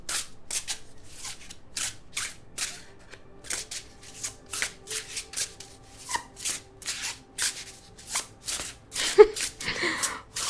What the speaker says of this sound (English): I'm going to pull out some of these cards to get more information.